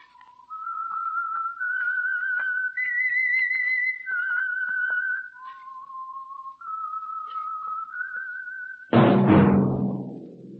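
A whistled melody of steady, sustained notes stepping up and down in pitch, carried alone and clearly for several seconds as the theme of the Signal Oil radio mystery show The Whistler, ending in a sudden loud broadband burst.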